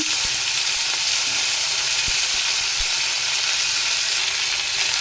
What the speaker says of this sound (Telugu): వేయించుకుందాము చూడండి ఫ్రెండ్స్ వేగినాయి కదా మనం ఆనియన్ టమాటా పచ్చిమిర్చి అనేది వేసుకున్నాము